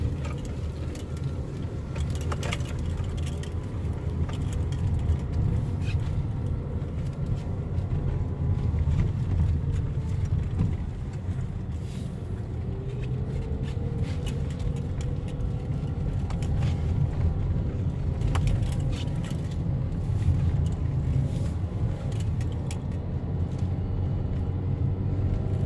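Car driving along a road near the Tiligul estuary after crossing a small bridge, a steady close engine and road rumble with wind buffeting the microphone, continuous throughout.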